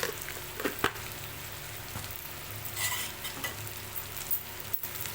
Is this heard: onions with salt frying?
yes